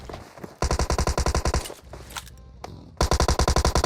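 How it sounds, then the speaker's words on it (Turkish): Gunfire in a video game: two long bursts of rapid automatic fire, loud and close, separated by a brief lull of quieter shots and background noise. "Abi bunlar full birbirini sıkıyor"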